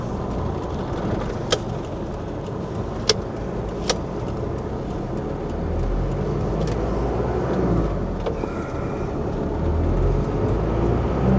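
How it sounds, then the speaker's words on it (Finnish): Cars pass along a road in Thailand, a steady traffic rumble that swells toward the end, with a few sharp clicks or knocks over it and no talk. "Vielä tulloo autoja."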